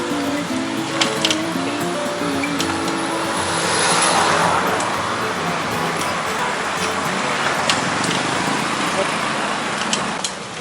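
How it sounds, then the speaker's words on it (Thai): A car turns into a narrow side street amid heavy after-school traffic in Phra Pradaeng, Thailand, with steady close road noise that swells briefly midway. "รถเลี้ยวมาพอดี"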